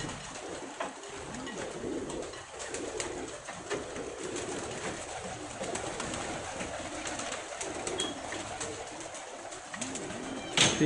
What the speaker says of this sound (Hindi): चलें नीचे, एक दो बड़े कबूतर दिखा देते हैं।